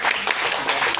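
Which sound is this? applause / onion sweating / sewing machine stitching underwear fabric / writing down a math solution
applause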